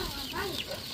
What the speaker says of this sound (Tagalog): Ayan oh, nag-iitlog na manok dyan.